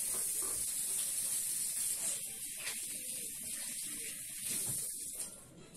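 Water from a tap runs in a steady close hiss while hands are washed, with brief splashy breaks and gaps in the flow near the middle, fading slightly at the end.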